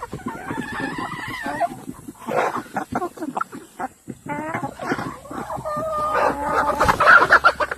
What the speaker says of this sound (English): We have a lot of roosters